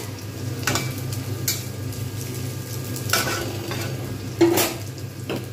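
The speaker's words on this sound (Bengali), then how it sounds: "পেঁয়াজগুলো একসঙ্গে ভাজা হচ্ছে" Sliced onions and potatoes sizzling steadily in a pan, with a spatula scraping and stirring at intervals of a few seconds; close, continuous frying hiss with sharper clinks of the utensil against the pan.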